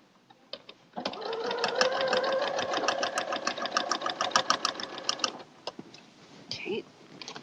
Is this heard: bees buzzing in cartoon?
no